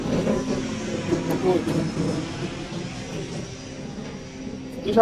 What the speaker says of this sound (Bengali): এত বিমান যায় কেন রে?